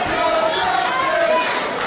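Wrestling crowd at an MLW match between Pretty Boy Smooth and Matt Justice, a steady roar of cheering and shouting voices filling the arena.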